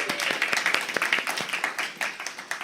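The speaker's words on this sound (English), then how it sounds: "Let's give them another round of applause." Applause at an open mic event, a small audience clapping with distinct, uneven hand claps that stay fairly close and steady throughout.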